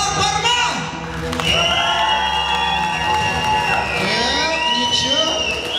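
Loud crowd cheering, whoops and applause fill a Kazakh wedding party hall, steady and dense throughout, with high shouts and voices rising over the noise.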